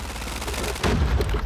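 Rapid gunfire from the Call of Duty Mobile shooter game rattles in dense bursts, then swells into a heavier, louder volley partway through, with no talking.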